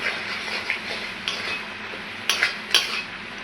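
Turmeric, cumin and chili powders being mixed with fried potatoes in a pan, a handful of sharp metal spoon clinks and scrapes against the pan over a quiet background.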